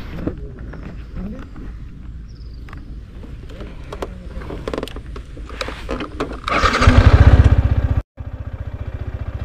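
A motorbike starts for the ride back to Coimbatore from Chulliyar Dam in Kerala: soft outdoor rustles and faint voices, then the engine catches with a loud roar, drops out for a split second and settles into a rapid idle.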